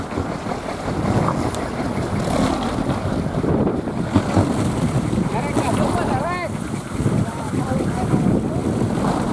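Strong gusty wind buffeting a kolecer, a traditional Sundanese bamboo-and-teak windmill, with heavy rumbling wind noise on the microphone and some creaking or whistling squeals partway through.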